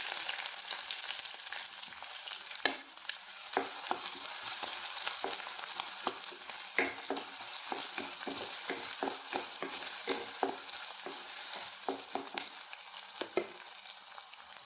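Garlic, ginger and green chilli sizzle in hot oil for Kerala-style lime pickle, a steady close crackle broken by repeated scraping clicks of a spoon stirring the pan, no voices.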